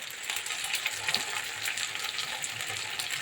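Spices, grated coconut, salt and turmeric frying in a pan, a steady close sizzle with faint stirring scrapes and no one talking.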